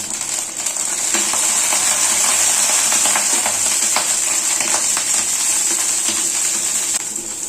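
Onion and tamarind fry in hot coconut oil with a loud, dense, continuous sizzle, close up, punctuated by scattered crackles and pops throughout.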